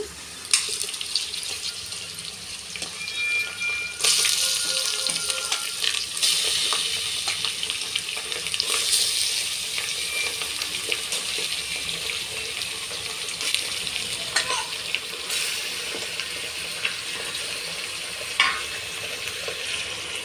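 Mutton frying in a pan for a spicy mutton bagara rice, a continuous hiss and sizzle with occasional scraping and clinks throughout, close and moderately loud with no talking.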